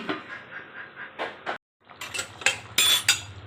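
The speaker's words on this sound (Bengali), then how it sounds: "একটু ঢেকে দেবো।" A metal lid clatters onto a pot of simmering soyabean curry masala, with a few sharp clinks and a scrape of metal on metal near the end. The sounds are close by and fairly quiet.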